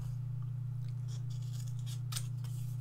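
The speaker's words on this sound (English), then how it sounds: "I'll just show you how quick it is to even just fussy cut them" Scissors fussy cutting paper for a handmade card, with soft crisp snips and paper rustles heard close over a loud constant low electrical hum, no talking.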